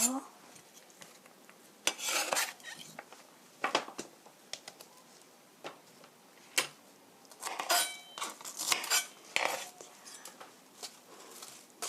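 A knife trims the ends off young radishes for kimchi, making soft, quiet scrapes and light clinks in short irregular bursts, close and gentle, with no talking.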